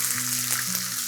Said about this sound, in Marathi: आता ही जी गवार आपण स्वच्छ धुवून मोडून घेतलेली आहे ती गवार घालूया